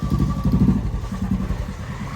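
A motorcycle engine chugs close by in a low, rapid pulsing rumble, steady and fairly loud for a couple of seconds.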